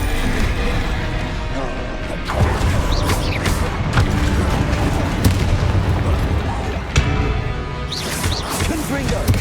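Confringo and Glacius spells are cast in quick succession in Hogwarts Legacy, producing booming blasts and crashing impacts that repeat continuously over a dense, loud battle din.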